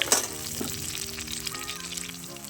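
Tomatoes dropped into hot oil over lightly fried onions in a pan, giving a steady close sizzle with a sharp hiss at the start that settles into continuous frying noise throughout.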